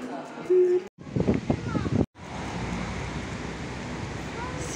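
Strong wind roars steadily into the microphone, buffeting and rushing, after a short stretch where people talk over the gusts, in La Pineda, Spain.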